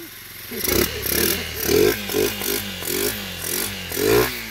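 A motorcycle engine, revived after being flooded with water in the jungle, revving in repeated rising bursts with clattering mechanical noise, close and loud, about seven surges in quick succession.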